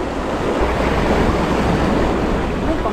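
Steady, loud ocean waves wash continuously close by while fishing from the shore, a dense roar of surf with wind noise and no talking.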